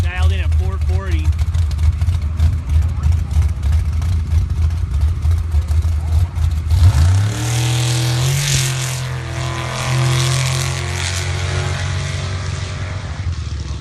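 A drag racing car engine roars loudly through a hard launch at a Pro Gambler eliminations event, its pitch rising as it accelerates away, with an announcer talking over the noise.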